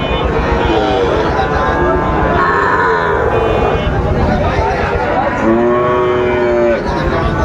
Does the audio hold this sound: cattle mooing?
yes